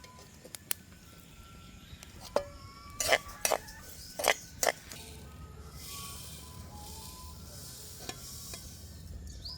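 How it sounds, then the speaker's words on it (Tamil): Sesame seeds dry-roasting in a pan give a faint, steady rustle and sizzle, broken by sharp metallic scrapes and clinks of a spoon against the pan in a quick cluster midway through; no voices. "இது வறுக்காத எள்ளு, இனிதான் வறுக்க போகிறேன்."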